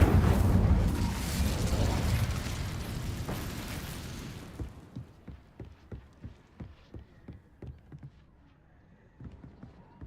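A fire spell in Hogwarts Legacy erupts with a loud roaring burst of flame for several seconds, then fades into a string of light, evenly spaced pops and steps.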